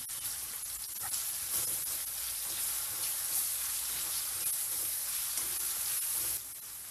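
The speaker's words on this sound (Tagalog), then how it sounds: "ilalagay na natin yung ating pork kanina na pinalambot natin" Tenderized pork goes into a pan of frying tomatoes for ginisang pechay, giving a steady hissing sizzle with faint stirring scrapes, fairly quiet and continuous throughout.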